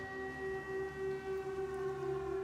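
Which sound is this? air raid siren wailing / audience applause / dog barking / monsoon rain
air raid siren wailing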